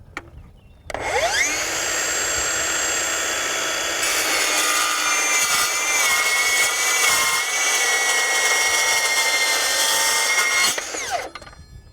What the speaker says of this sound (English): It's hard to even imagine that you're cutting steel with this thing.